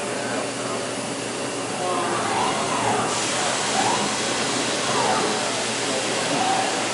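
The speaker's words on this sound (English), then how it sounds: "The die cleaner is again cleaning out the dies." A steady hissing blast of air as the die cleaner clears the dies on an Amada Astro 165W robotic bending system, with repeating soft mechanical sweeps in the background of a factory floor.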